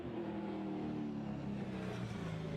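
A race car engine drones steadily at mid pitch, a continuous throaty rumble heard from a distance, fairly faint with a slight rise in tone.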